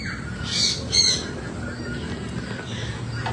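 Birds on a farm let out two sharp, loud squawks in quick succession, followed later by a fainter call over a low outdoor background.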